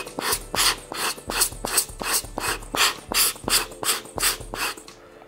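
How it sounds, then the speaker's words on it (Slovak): A rubber blower bulb puffs air into a DSLR camera held facing down to clean the sensor. About a dozen sharp, evenly paced whooshing puffs sound very close, with short gaps between them. "Takže idem a zase trošičku fúkam, aby som ten najväčší bordel, čo tam mám, dostal odtiaľ preč."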